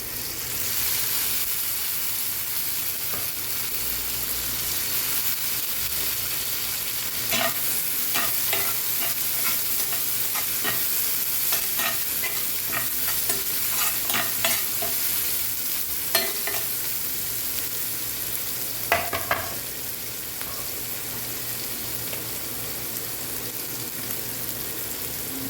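Tomatoes sizzle and fry in a hot pan, a steady hissing bed with repeated scraping and stirring strokes of a spoon, close up, with no talking.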